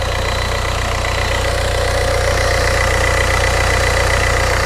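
A 2002 VW diesel engine idles steadily and loudly after its fuel lines, return lines, glow plugs and fuel filter were replaced, a constant close-up drone with a faint rhythmic knock and no voices.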